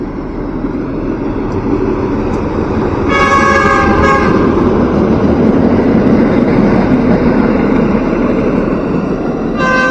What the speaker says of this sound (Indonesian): kereta api dari arah Pariaman ya menuju Kota Padang teman-teman.